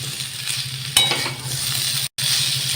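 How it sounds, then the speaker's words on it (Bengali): Meat curry masala with a little sugar frying in oil, a dense close sizzle with a stirring scrape near one second, then a brief dropout before the hiss resumes. "এখানটায় আমি অল্প একটু চিনি অ্যাড করে দিলাম দিয়ে আবার কষাবো"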